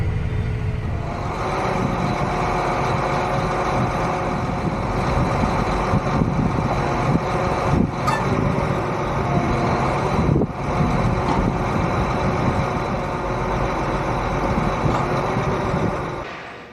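A farm tractor's diesel engine runs steadily and fairly loud for the whole stretch, a dense continuous drone with a couple of brief clanks, no voices.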